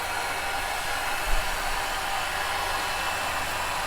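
A heat blower dries a fresh coating on a knife blade, giving a steady, loud, even whooshing hiss that runs throughout with no change and no talking.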